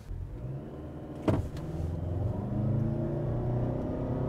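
A Toyota Camry FL in sport mode on a launch-control start, engine droning low and steady inside the cabin, rising gradually in loudness as it pulls away after a brief thump.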